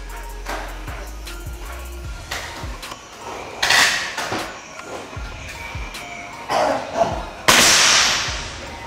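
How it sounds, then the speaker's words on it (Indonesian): Several sharp, sudden cracks of air rifle pellet shots ring out one after another at uneven intervals, with clattering and handling noises between them and no talking. "Kita akan coba lagi tembakan yang keempat."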